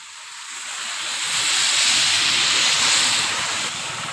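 A strongly flowing, clear river rushes in a broad, steady wash that swells louder after the first second, with some wind buffeting the microphone. No one speaks.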